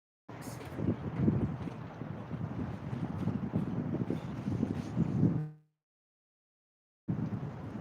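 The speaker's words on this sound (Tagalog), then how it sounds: "Mahangin siya." Steady, loud wind at Victoria Harbour in Wan Chai, Hong Kong, buffets the microphone with a rough low roar, cutting out abruptly for a moment before gusting back.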